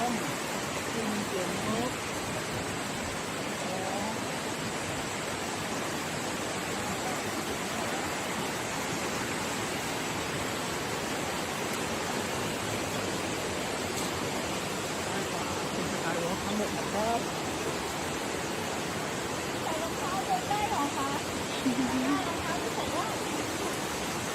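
A waterfall below a skywalk at a natural stream-side homestay in Chiang Dao sends up a constant, even rush of falling water that holds unbroken for the whole stretch.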